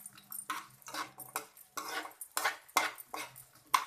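A spoon stirs and scrapes through edible gum (gond) frying in a pan, making a series of clinking, scraping strokes in an irregular rhythm, close and moderately loud, with no talking.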